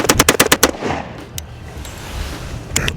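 A rapid string of about seven loud pistol shots from a Tisas 1911 firing jacketed hollow points, followed by a ringing lull and two more sharp shots at the end, close and punchy outdoors.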